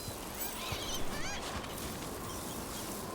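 Birds in the video game Dragon Age: The Veilguard on a beach, honking goose-like calls scattered over a steady wash of ambient noise, moderately loud with no talking.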